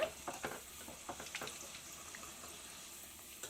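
Cashews frying in hot oil inside a sieve, a faint, steady sizzle with light crackles and bubbling near the start.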